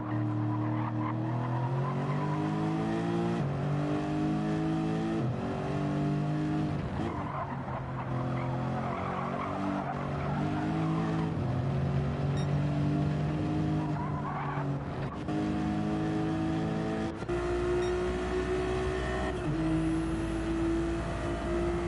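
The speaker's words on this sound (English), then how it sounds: "Got one Ferrari passing the other Ferrari." Race cars, Ferraris among them, lap Laguna Seca in a racing video game, engines droning and shifting pitch with continuous loud tire squeal and skidding throughout.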